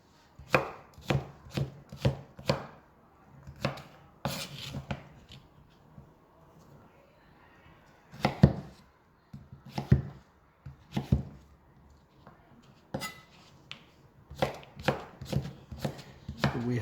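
Ham and vegetables being chopped into small pieces for a quiche, a knife striking a cutting board in quick bursts of sharp, close taps separated by short pauses.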